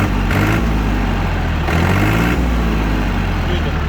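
Yanmar FX235 mini tractor's diesel engine running with a steady low, loud rumble that rises briefly a couple of times as it revs, heard up close.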